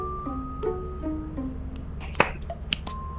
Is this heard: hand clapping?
yes